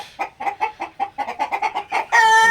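Sonali super hybrid chickens cluck in a quick run of about a dozen short, close calls, ending in a louder, drawn-out squawk.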